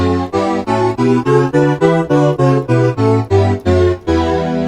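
A sequence of sustained chords harmonizing the maqam Bayati scale in just intonation with quarter tones steps through about a dozen evenly spaced tones with brief gaps, played clearly and loud.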